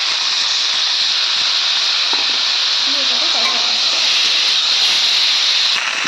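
A ginger-cumin spice paste for a fish curry sizzles as it fries in the pan, making a loud, steady hiss that runs without a break from start to finish.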